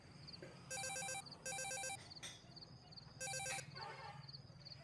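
A telephone rings in three separate bursts of bright electronic trilling, fairly close, with quiet background between the rings.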